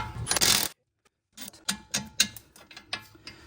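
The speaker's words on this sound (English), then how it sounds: "hold the stud on this side while you take the nut off of the other side of the mount here. It's a 16mm socket" A 16mm socket wrench working a nut off the sway bar end link of a 2005 BMW 325xi (E46), heard as a burst of metallic rattle, a brief pause, then a series of sharp close ratcheting clicks.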